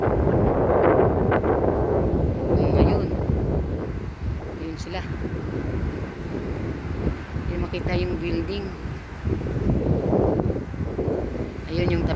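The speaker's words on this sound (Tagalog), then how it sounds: "Ayun naman po yung lakas ng hangin." Strong wind roars continuously and loudly into the microphone during a sandstorm in Abu Dhabi, a rushing broadband gusting under people talking.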